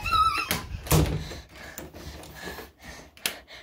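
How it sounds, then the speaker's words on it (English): A door is shut with a few solid thunks and knocks at close range, mixed with gasps and hurried movement in a house at night. "Lock the door!"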